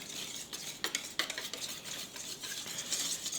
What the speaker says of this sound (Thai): เราผสมแป้งให้เข้ากันดีก่อนครับ ก่อนที่เราจะใส่ไข่